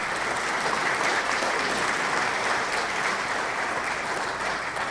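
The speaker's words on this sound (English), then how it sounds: "Let's give them a round of applause." Steady, full audience applause rings out for carolers after a morning performance at a Hall of Fame induction gathering, a continuous dense clatter of many hands sustained for several seconds with no speech over it.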